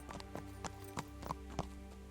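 Horse hooves galloping in the video game Kingdom Come: Deliverance: a rapid, even clip-clop of hoofbeats over a steady low hum, fairly quiet and close, with no talk.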